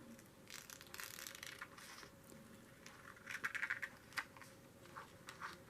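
Scissors cutting a small butterfly shape out of black cardstock, faint close crunching snips and rustling paper in short uneven bursts, with no talk.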